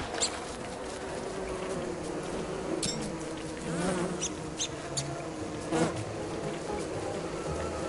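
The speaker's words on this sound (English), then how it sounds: "Bees, bees, bees, bees!" Bees in the Don't Starve video game give off a steady, fairly quiet insect buzz that runs the whole time, broken by brief chirpy game effects and small clicks, with no talking.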